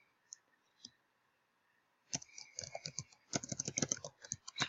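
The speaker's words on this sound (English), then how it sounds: "Excuse my typing." Typing on a computer keyboard: a couple of isolated key taps, then from about two seconds on a dense, irregular run of quick clicks, close and fairly soft, with no talking.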